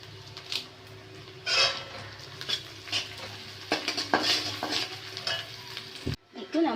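Onion and curry leaves fry in a pan of hot oil with a close, bubbling sizzle broken by irregular scraping stirs and clinks, ending abruptly.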